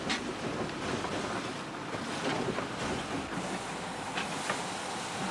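A steam locomotive is being readied for its return trip, giving off a continuous, fairly close hissing rumble with a few faint knocks and clanks scattered through it, and no one speaking.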